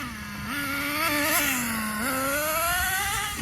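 An HPI Racing RS4 3 Evo RC car engine starts and runs at home field: a steady, high-pitched motor whine that rises and dips with the throttle, loud and close, with no talking.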